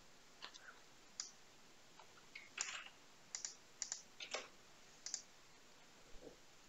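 Computer keyboard typing of an email address, light irregular clicks in short bursts, close and quiet, with no talk.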